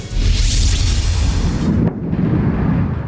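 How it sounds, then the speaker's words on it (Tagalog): Explosions in Beirut, Lebanon, amid Israeli attacks, come through as a loud, continuous roaring rumble with a broad rushing wash, a brief drop near the middle, then the heavy rumble continuing. "Araw-araw ang pagsabog sa ilang bahagi ng Beirut sa Lebanon."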